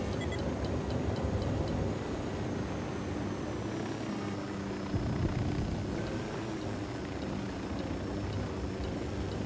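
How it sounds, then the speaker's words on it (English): Aircraft engine drones steadily in the open-world shooter Ghost Recon Wildlands, a low continuous rumble with rhythmic ticking clicks on top and a brief thump midway. "That's an aircraft."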